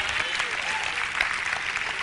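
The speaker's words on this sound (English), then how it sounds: "Come on, clap your hands, somebody." A church congregation claps hands in a loud, dense burst of applause that fills the room, with scattered voices mixed in.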